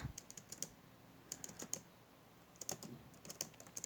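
Quiet, close-up clicks of computer keys being pressed in short irregular bursts with brief pauses between them.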